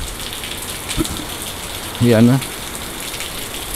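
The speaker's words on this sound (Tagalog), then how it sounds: "Ayan, umuulan" Steady rain patters across the whole stretch as a typhoon approaches, a soft broadband hiss, while a voice speaks briefly over it.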